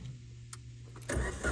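A car engine cranks and catches: a low, steady idle-like hum runs for about a second, then a louder, rougher broadband roar bursts in as the engine starts and keeps running.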